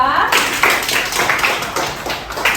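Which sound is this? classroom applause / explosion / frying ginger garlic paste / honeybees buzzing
classroom applause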